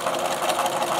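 A sewing machine runs a continuous top stitch around the edge of a lined Halloween trick-or-treat bag, a quick, even mechanical whir heard alone.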